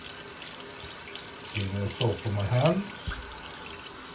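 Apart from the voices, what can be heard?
water poured into a shaving bowl at a sink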